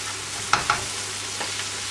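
Fish and onion fry in a pan with a continuous close sizzle, and two quick light utensil taps come early in the sound.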